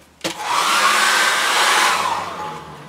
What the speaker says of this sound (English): I'm going to have to put a hairdryer on that.